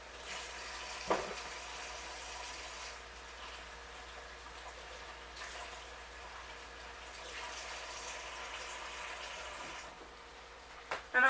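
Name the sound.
tap water running while washing mushrooms in a sink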